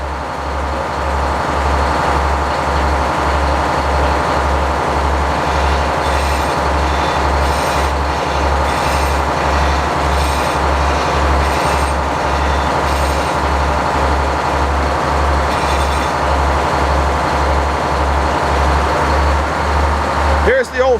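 A big sawmill's motor running steadily at close range, a loud continuous drone with a strong low pulsing throb that holds even throughout, while someone talks over it.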